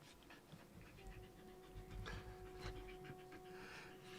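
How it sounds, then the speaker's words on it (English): A small pet dog pants with quick, soft breaths close by, a steady rhythmic huffing that continues throughout, with a faint electronic hum underneath. "Little dog cameo on camera"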